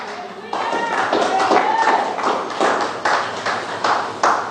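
Church congregation clapping hands in praise, a steady rhythmic group clap with regular beats, moderately loud and filling the room, with voices faintly mixed in.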